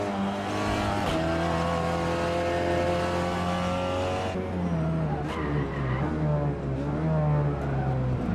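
A Peugeot 308 RCZ racing cup car lapping Tsukuba circuit, its engine droning loud and close from inside, holding steady before shifting and revving through corners, with brief tire squeals.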